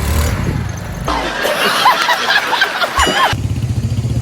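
A motorcycle engine runs with a low, steady rumble at the start and end, giving way in the middle to louder, rushing broadband noise, all fairly close.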